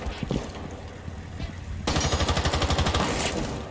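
A submachine gun in Rainbow Six Siege fires a fast, steady burst of rapid shots, loud and close, after scattered quieter in-game noises.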